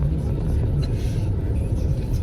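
Road traffic with passing cars, a steady low rumble of engines and tyres filling the whole stretch, with faint muffled voices underneath.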